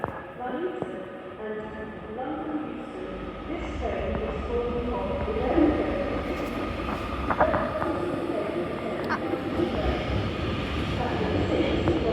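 A Northern passenger train pulling into Liverpool Lime Street station, a continuous low rumble and wheel rattle filling the whole stretch, with occasional metallic clanks and squeals over the steady noise.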